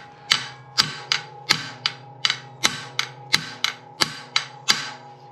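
Steel hammer blows drive a steering stem into a springer front end on an XS650 chopper, about a dozen sharp ringing metallic strikes in a steady, evenly spaced rhythm, close and loud, with no talking.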